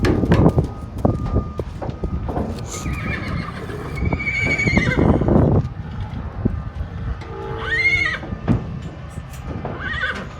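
Horses whinny loudly several times, high wavering calls near the end, over hoof clatter and shuffling in the background.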